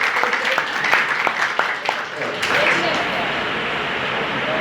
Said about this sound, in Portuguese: Palmas para o apóstolo Paulo.